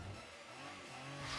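A hot dog vendor's truck engine revs in a video game, a brief, faint mid-pitched drone that climbs slightly toward the end, with no talking over it.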